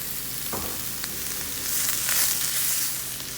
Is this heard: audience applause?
no